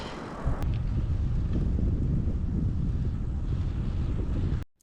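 Steady, loud wind buffeting the microphone while cycling with a tailwind in Spain, a continuous rumbling roar that stops abruptly at the end.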